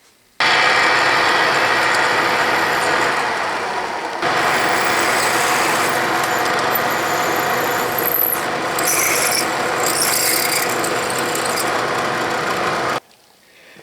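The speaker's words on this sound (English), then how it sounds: "Ready to drill." A steady mechanical whir and grinding rasp runs for about twelve seconds, loud and close, with a few higher squeals near the end.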